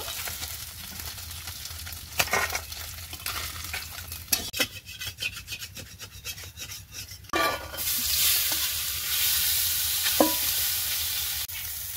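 Fish frying in a pan, its continuous sizzle broken by rapid scraping and stirring strokes, then a louder, brighter hiss near the end; close and without talk.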